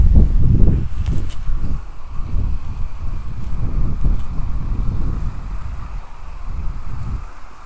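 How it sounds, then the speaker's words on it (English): Strong wind buffets the microphone outdoors, a continuous low roaring rumble with gusts rising and falling throughout, and no one speaking. "So I'm sorry about the wind"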